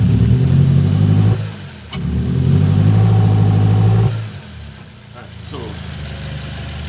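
A 2006 Nissan Y11 AD with a QG15 engine runs under load in gear during a misfire check, a steady low engine drone that dips twice and recovers, with voices nearby.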